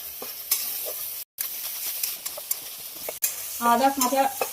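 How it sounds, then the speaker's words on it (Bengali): Ginger-chili paste with turmeric and salt fried in oil and stirred well in a pan, a soft steady sizzle broken by scraping stirs and clinks of the spatula, with a faint voice-like tone near the end. "মশলাটা ভাজার জন্য খুব ভালোভাবে নেড়ে দেবো।"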